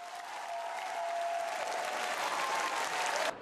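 Warm, sustained applause from a concert audience after a New York youth choir's performance in Beijing, dense and steady throughout with no voices, cutting off abruptly at the end.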